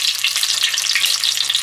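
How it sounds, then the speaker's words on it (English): Steady, dense sizzling of tomato paste frying in hot oil for jollof rice, close up and continuous, with a faint low hum underneath. "so I am frying the paste in oil"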